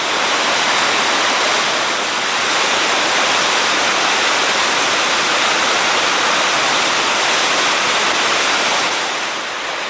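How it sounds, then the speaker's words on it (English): Loud, steady roar of the Kicking Horse River at Natural Bridge, Yoho National Park, churning through a narrow rock channel, continuous and close, with no other sounds. "the water right above Natural Bridge, where it's being forced into that passage between the rocks"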